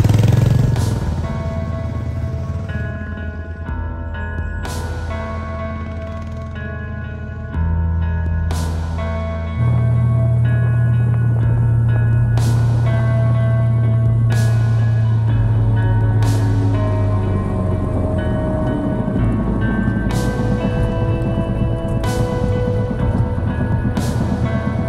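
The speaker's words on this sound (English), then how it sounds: "I don't think I've ever seen so many bikes flying by" Motorcycles passing on a road in Wales near a biker hangout, loud engine drones rising and falling as bikes sweep by one after another, with a sustained low rumble throughout and no talking.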